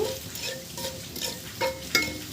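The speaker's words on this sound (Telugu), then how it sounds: "ఈ పోపు కొంచెం చిట్పట్లాడాక ఆనియన్స్ వేసుకుందాము" Tempering spices crackle and splutter in oil nearby, then onions sizzle, while a utensil scrapes and taps the pan in a few stirring strokes; no speech.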